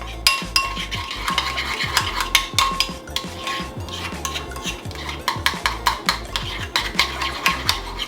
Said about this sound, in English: And we're just gonna mix this together.